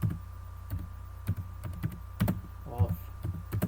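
Someone types a prompt on a computer keyboard in irregular bursts of close, soft key clicks and thunks, with a faint steady hum beneath.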